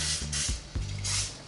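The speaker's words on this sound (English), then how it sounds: "Basically going to just spray the insides of these ramekins with some cooking spray" Cooking spray hisses from an aerosol can into ramekins in two or three short close bursts, with light clicks and faint mechanical rattles between sprays.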